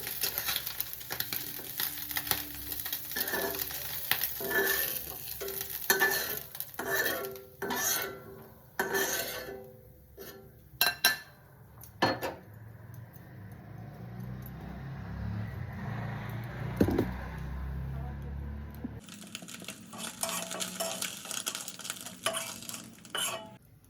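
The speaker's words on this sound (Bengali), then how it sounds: "এরকম হালকা করে ভেজে নিলাম।" Small kachki fish frying in oil, with a steady sizzle under repeated clinks and scrapes of a utensil against the pan, followed by a stronger, louder sizzle toward the end.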